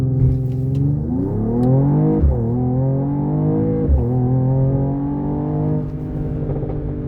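A 2022 Mercedes-AMG GT53 accelerating hard, its engine note climbing steadily in pitch through several gears with brief dips at each shift, loud and close throughout with no talking.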